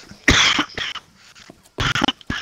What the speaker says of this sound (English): excuse me, coughing so much.